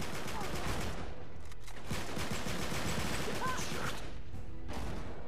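Rapid bursts of gunfire crackle and rattle through a cooperative online match of Uncharted 3, dense and continuous with machine-gun volleys and impacts, while a player mutters underneath.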